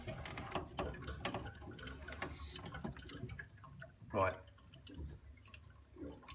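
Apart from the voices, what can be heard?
Vaillant Turbomax boiler gurgling and draining water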